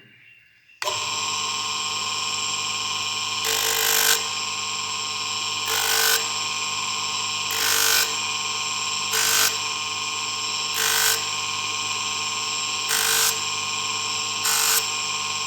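A heart-shaped abstract pendant is sanded with 220-grit sandpaper, a steady close mechanical whine punctuated by regular louder rasping surges every second or two, with no talking.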